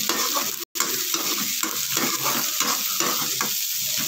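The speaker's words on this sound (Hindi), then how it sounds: "एक मीडियम साइज अनियन बारीक कटा हुआ मैं डाल के अच्छे से फ्राई कर लूँगी" Finely chopped medium onion frying in small kadai of mustard oil after cumin, a steady close hiss and sizzle with light stirring scrapes, briefly cutting out for an instant near the start.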